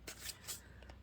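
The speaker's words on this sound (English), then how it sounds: "My shuffling's a bit iffy." Tarot cards being shuffled by hand: a few faint, soft riffling swishes close by, very quiet with no talking.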